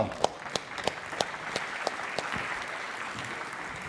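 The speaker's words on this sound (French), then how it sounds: "Je pense qu'on peut vous applaudir." Audience at a tech conference talk clapping after a live demonstration, sparse distinct claps at first that thicken into a light, even patter, moderately near and fairly quiet.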